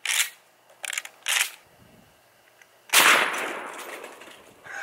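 A shotgun fires a 1 ounce rifled slug at a chainsaw motor, giving sharp nearby cracks: a few short clicks and pops, then one loud blast with a lingering, fading rumble outdoors.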